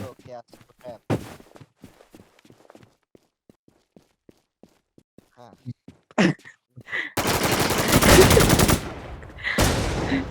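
Gunfire from the online survival shooter Infestation, with dense sustained bursts of automatic shots and loud cracks near the end, following sparse clicks, footsteps and a couple of short sharp reports.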